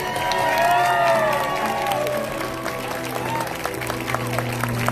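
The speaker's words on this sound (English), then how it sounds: "let's give them all a round of applause" Applause and some cheering from a school audience for new sixth graders at a fifth grade continuation ceremony. The clapping is continuous, with a few voices and whistle-like calls rising over it early on.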